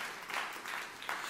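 Church congregation applauding during a Christmas Eve service, a soft, distant wash of many hands clapping that swells in a few waves and stays steady and faint throughout.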